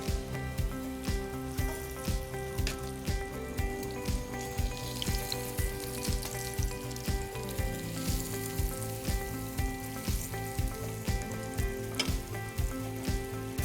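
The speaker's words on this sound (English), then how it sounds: "Now we place our lamb shanks straight into the pan." Lamb shanks sear in hot oil in a pan with a continuous, close sizzle. Sharp regular clicks and taps run under it throughout, and no one speaks.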